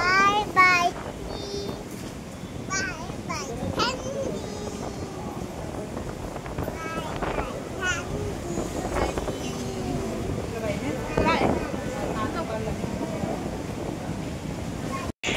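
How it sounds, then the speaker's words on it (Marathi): Strong wind buffets the microphone on Alibag beach, a steady low roar running throughout, with someone talking over it and a voice briefly heard. "एवढा वारा की काय सांग."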